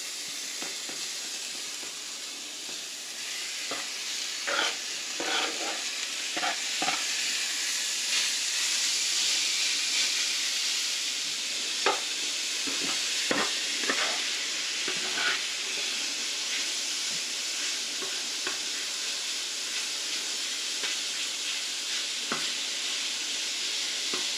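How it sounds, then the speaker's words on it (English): Bacon frying in a pan makes a continuous, even hiss of sizzling fat with scattered small crackles and pops, heard close up with no talking. "let's get to cooking this bacon"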